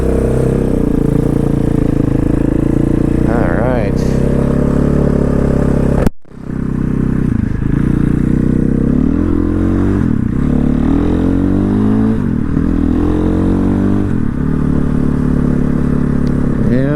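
A KTM 500 or Honda XR650L motorcycle rides on a street, the engine loud and close, rising and falling through repeated revving and gear changes, with a sharp clunk early on and wind rush.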